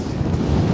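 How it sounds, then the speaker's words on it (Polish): Strong wind roars and buffets the microphone on a mountain hike in England's Lake District, a dense, loud, continuous rumble with no speech. "no wiatr mocny, jak widzicie"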